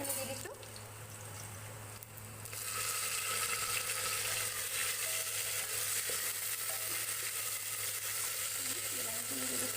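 Tomatoes added to onions already frying in oil for mung dal sizzle steadily in a pan; the hiss jumps louder after a brief drop and stays bright and continuous, heard close with no talking.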